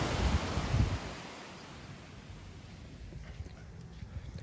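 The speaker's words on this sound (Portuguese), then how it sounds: "tá quebrando aqui, a água batendo aqui" Ocean surf breaking and washing against the shore, with water splashing close by under steady wind noise; louder surges in the first second, then a continuous softer wash.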